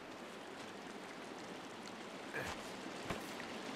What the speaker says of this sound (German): Wir sind auf jeden Fall schon mal an einem Fluss.